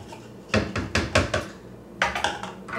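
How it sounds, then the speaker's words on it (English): A spoon clinking against a cup while stirring milk into ginger tea for ginger boba, a few quick bursts of ringing taps separated by short pauses, close and clear. "And then you just stir it up"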